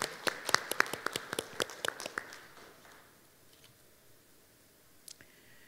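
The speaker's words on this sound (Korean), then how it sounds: "모두 박수로 환영해 주셨으면 좋겠습니다." Scattered clapping from a small audience at an opening ceremony, sharp separate claps that thin out quickly and fade to near silence, then one last faint clap.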